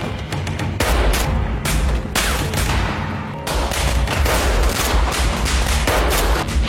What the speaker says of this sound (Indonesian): salah satu tentara itu menembaki hewan peliharaan Kunimatsu